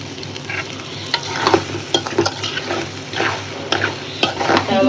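Eggplant and egg stir-fried in oil in a pan, loud steady sizzling broken by frequent scraping stirs of a spatula against the metal, close and unaccompanied by talk.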